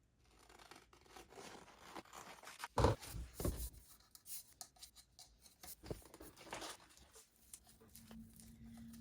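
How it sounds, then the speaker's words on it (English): Scissors snip straight through a piece of material for a V-split tumbler, a few close, crisp cuts with light rubbing and handling noise between them, no talking. "now I'm going to cut this piece just straight up"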